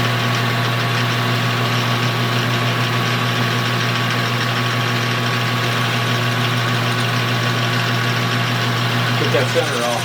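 A small lathe motor runs steadily at about 600 RPM, a constant mechanical hum with a strong low drone and fixed tonal whine, close and even throughout, with a few faint clicks near the end.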